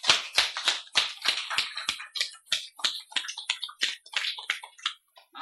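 A small audience at a Buddhist lecture on the Surangama Sutra claps sparsely and unevenly, with sharp individual claps that thin out over several seconds, fairly faint and with no talk over them.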